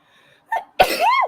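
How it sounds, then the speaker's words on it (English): A single sharp sneeze, preceded by a brief intake of breath, loud and close with a rising, squealing tail. "I know I'm about to sneeze."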